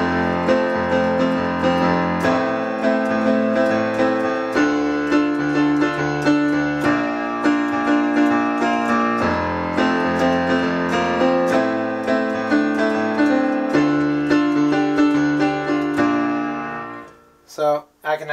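A piano plays the chords of a song with both hands together, a steady flow of full, sustained chords at a moderate pace for about seventeen seconds, close and alone before fading at the end.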